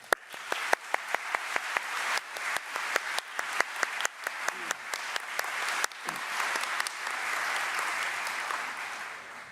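An audience claps warmly to welcome a speaker, a dense burst of applause with crisp individual claps at first that merges into a steady wash before fading.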